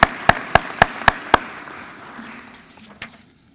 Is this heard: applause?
yes